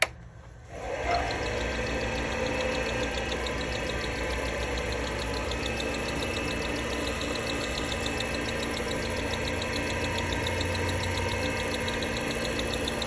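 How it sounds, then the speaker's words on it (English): A wood lathe spinning a pen blank at slow speed, with a steady mid-pitched motor hum and faint high whine running continuously and evenly from just after the start, close by and alone with no talk. "Lathe is on a slow speed."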